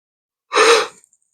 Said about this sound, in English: I'm gonna be yawning the whole trip home.